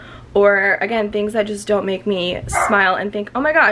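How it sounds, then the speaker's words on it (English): A dog barks and yips repeatedly indoors, close and fairly loud, mixed in with someone talking over it throughout. "sorry about my dog"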